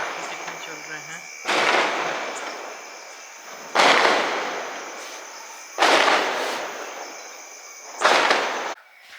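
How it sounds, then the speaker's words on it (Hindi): Firecrackers bursting outdoors during celebrations of India's T20 World Cup win, four loud booming blasts spaced about two seconds apart, each trailing off in a long rumbling echo. "देखिए पटाखे कितने चल रहे हैं।"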